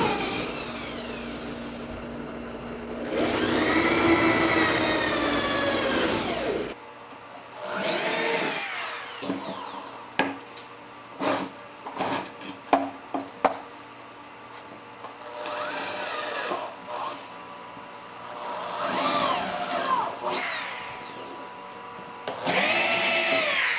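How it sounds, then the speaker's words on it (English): A power drill bores holes for volume inserts, with a sustained whining run near the start followed by several short bursts and stops, each spin-up distinct and close, with no voices. "So we're going to get these drilled out."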